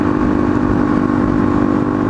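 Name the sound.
Suzuki DRZ motorcycle engine running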